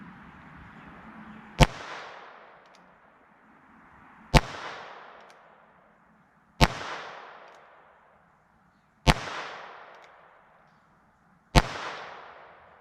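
A North American Arms Sidewinder pistol fires a five-shot group: five loud, sharp cracks spaced about two and a half seconds apart, each trailing off in a short ringing decay, with no talking.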